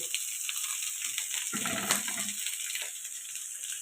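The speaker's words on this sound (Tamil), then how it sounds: "கொஞ்சம் எண்ணெய் ஊற்றிட்டு கடுகு போட்டு கருவேப்பிலை" Mustard seeds and curry leaves sizzling in hot oil, a steady hissing crackle with a brief louder burst midway, close and fairly quiet, with no talking.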